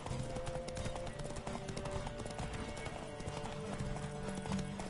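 Horse hooves clip-clop in a quick, continuous rhythm over a dense soundscape with a low background drone, from the video game The Witcher 3: Wild Hunt.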